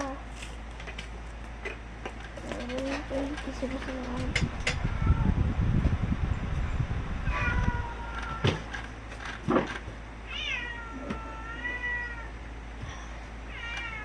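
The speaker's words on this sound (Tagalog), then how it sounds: "sorry kung maingay pusa namin" A cat meows repeatedly, with drawn-out rising and falling cries, some close and loud, amid background noise and a brief rustling burst.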